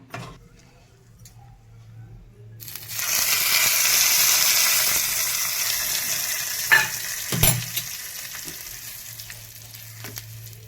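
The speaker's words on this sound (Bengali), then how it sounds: "আর তরকা দেবো সর্ষে আর শুকনো লঙ্কা ফোড়ন দেবো" Mustard seeds and dried red chilies hit hot oil for a tempering, bursting into a loud, steady sizzle that builds and then slowly eases, with a few sharp pops and crackles near the end.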